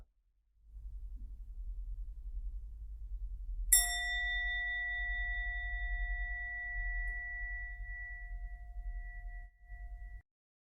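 A single clear bell strike during a Zen dharma talk rings out and sustains with a long, pure fading tone over a low steady hum.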